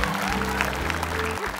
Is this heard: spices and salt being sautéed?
no